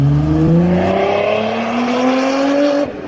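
A race car, one of a C8 Corvette, Porsche GT3 RS, 718 Cayman S or Honda S2000, accelerates with a loud, rising engine tone and turbo whine that climbs steadily for about three seconds before cutting off.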